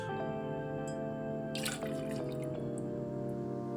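Green Chartreuse trickles into a cocktail shaker in a quiet pour with a brief burst of splashing in the middle, set against a faint steady hum, without any talking.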